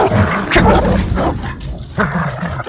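Several dogs in the video game Ghost of Tsushima bark in loud, close bursts separated by short pauses, with no talking over them.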